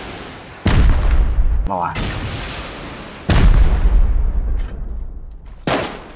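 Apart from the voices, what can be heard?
explosions blowing open a roof in the video game Rust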